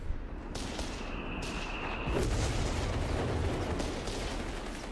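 Artillery cannons fire a barrage during a Company of Heroes 3 tournament match, sending a sustained rumble of blasts through the game's battlefield ambience with no voices heard.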